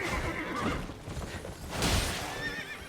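A horse whinnies twice in the game Elden Ring, with a hoof clop or two and faint background ambience between the calls.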